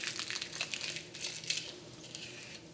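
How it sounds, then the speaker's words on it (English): Plastic top covering peeled and pulled off kulfi molds, giving a run of close crinkling, crackling rustles with a few small clinks, continuous and fairly quiet throughout. "We're going to first take off the top covering that we put."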